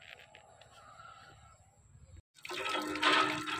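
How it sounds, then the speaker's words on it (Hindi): Water gushes from a village hand pump outdoors, a loud splashing rush that starts abruptly after quieter background chatter and a brief pause, then builds and continues strongly to the end. "सामने है चापाकल, अब यहाँ से पीते हैं पानी"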